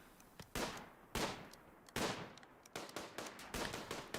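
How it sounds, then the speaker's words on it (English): Heavy SMG fire in a Rimworld PvP battle: repeated sharp bursts of rapid shots at a moderate distance, each cracking out and decaying, coming in an uneven rhythm with no voices. "Oh, and now these heavy SMGs are going to shine"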